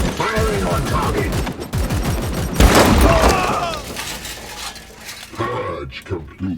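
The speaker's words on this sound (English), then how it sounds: "I think a handy grenade will take care of this" Grenade blast and gunfire in the video game Warhammer 40k Chaos Gate Daemonhunters, loud bursts of shots and a booming, shattering crash with debris, under and between bits of voiced game dialogue.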